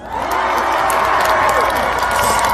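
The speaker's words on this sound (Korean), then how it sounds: "큰 박수와 함성을 한번 보내주시면 되는데" An audience of students at a fan event for a singer bursts into loud, continuous applause and cheering, with shouts and whoops in a dense crowd roar.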